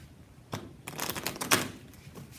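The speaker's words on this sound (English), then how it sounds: "Let's give it a little shuffle" A deck of Lenormand cards with US Games card stock is handled and shuffled close by, with a sharp flick, then a rapid flurry of riffling that ends in a crisp snap.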